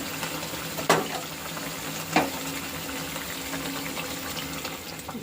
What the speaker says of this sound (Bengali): এই যে মাছটা ফুটে গেছে দেখো